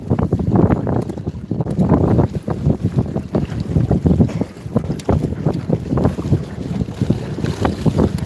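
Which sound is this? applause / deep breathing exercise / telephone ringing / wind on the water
wind on the water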